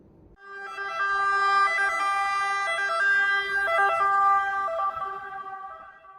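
A toy ambulance siren from an RC ambulance wails in a bright, electronic rising-and-falling pattern, loud and close, lasting several seconds with no voices.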